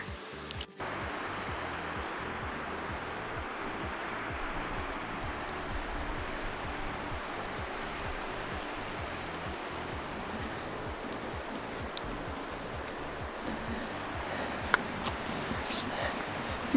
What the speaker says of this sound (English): The creek is pretty down there with the snow.